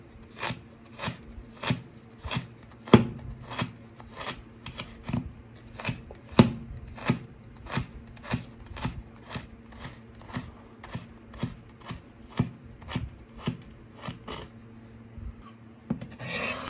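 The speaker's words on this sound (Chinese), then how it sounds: "然后再改刀把生姜切得稍微细一点" A kitchen knife chops ginger finer on a cutting board in a steady series of crisp, close taps, about two per second for the whole stretch, with a few sharper knocks.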